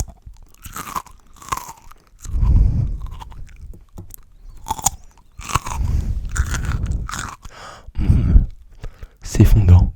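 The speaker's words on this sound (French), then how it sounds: "Maintenant, c'est le moment dégustation." Close-miked chewing of a cooked potato in an ASMR tasting: soft, moist bites and mouth sounds come in several separate bursts between quiet breaths and sighs, intimate and near.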